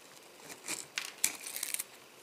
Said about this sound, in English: Now with this one, I'll just use my knife